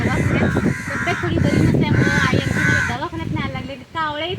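A flock of crows caws loudly and continuously in a cashew orchard, with harsh, overlapping calls filling the air while a person speaks over them.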